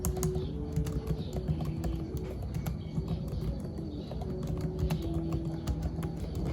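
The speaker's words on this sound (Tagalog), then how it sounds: "Basta, super ganda mag-type dito." Soft, steady typing on the Magic Keyboard of a 2020 MacBook Air, a fast run of light, quiet key taps with a faint background hum and no talking.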